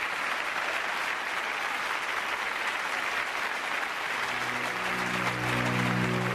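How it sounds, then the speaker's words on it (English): Long, sustained applause from a large crowd honoring Stalin, dense continuous clapping throughout, with a steady ringing tone, like bells, entering near the end. "The clapping would go on for so long that finally bells were used to call for an end to the"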